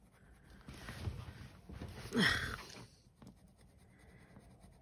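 Coloured pencil scratching across paper while carmine is blended into burgundy, a soft, close, continuous scraping that swells briefly in the middle before settling back, with no speech.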